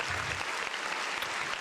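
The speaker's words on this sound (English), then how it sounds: "let's give him a round of applause" A crowd claps in a sustained round of applause, dense and even throughout, heard at a moderate distance with no voices on top.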